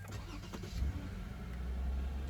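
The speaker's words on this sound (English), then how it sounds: "Go ahead and start it up again. It should run fine." A Toyota Sienna engine cranks and catches just after a battery replacement, settling into a steady low idle rumble that stays close and continuous with no talking.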